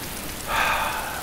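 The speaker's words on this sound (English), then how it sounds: "It's been raining for hours, days, weeks, months, eons." Rain falling in the video game DayZ, a steady hiss that swells louder partway through and holds as a broad, even wash, with no talking.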